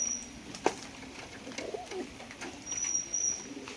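Madrasi pigeons, male and female, give soft low coos in short bursts close by, with a sharp click and a little rustling among them, faint and without talk.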